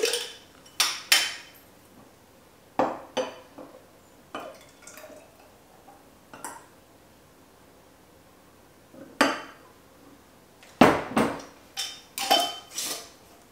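Ingredients for balsamic vinaigrette are shaken in a glass mason jar, giving irregular bursts of clattering and rattling with short quiet gaps between them, close and loud.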